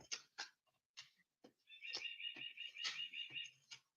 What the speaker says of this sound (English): that is my bird clock